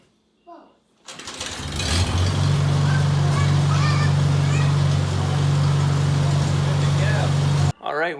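A 1949 Farmall Cub tractor engine cranks and fires up, then settles into a loud, steady idle close by that runs for several seconds before cutting off abruptly, with brief voices before and after.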